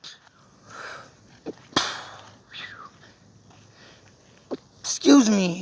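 A short, sharp sneeze-like burst rises from quiet sniffs and breaths, with scattered small noises close by and no clear talk.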